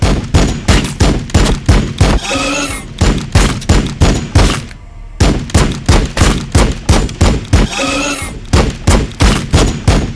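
Rapid, evenly spaced bursts of gunfire in the video game Warhammer 40,000 Battlesector, loud and close, with two brief pauses breaking the rhythmic volleys.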